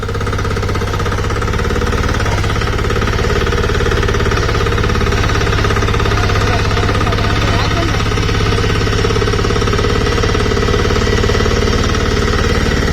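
A Kirloskar Mini T8 Delux power weeder engine runs loud and close in a field, a continuous hard, rapid knocking drone that holds steady throughout.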